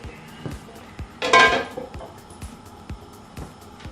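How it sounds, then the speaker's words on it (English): An old non-stick skillet handled in a home kitchen, with a few light clinks and taps and a short scraping rattle of metal cookware, close and fairly quiet. "We're going to use this old non-stick skillet."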